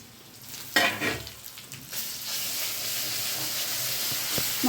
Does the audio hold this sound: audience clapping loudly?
no